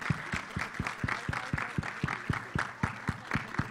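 Crowd applause at a film trailer launch event, with a single close clapper beating a steady rhythmic pulse over a wash of general clapping and crowd noise.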